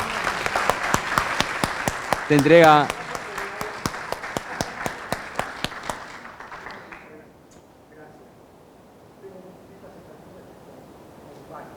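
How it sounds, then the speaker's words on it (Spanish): Seminar attendees clap in a brief, rhythmic round of applause that is moderately loud for about six seconds, with a short whistle or cheer partway through, then fades into quiet room murmur and a faint voice. "Un gran aplauso"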